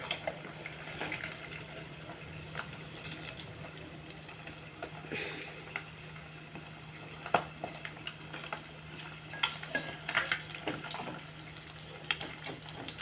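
Fish pieces fry in hot oil, a low continuous crackling hiss with scattered pops and spits that grow busier toward the end, heard fairly close and alone.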